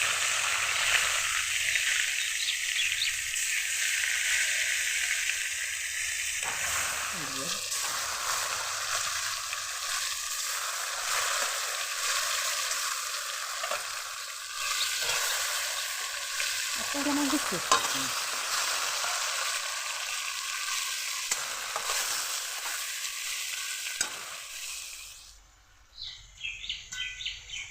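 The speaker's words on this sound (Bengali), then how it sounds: "কড়াইতে আর একটু তেল দিয়ে দিচ্ছি বাকি মাছগুলোকেও ভেজে নেব" Rita fish fry in oil in a kadai with a loud, continuous hissing sizzle up close that softens briefly near the end, with no one talking.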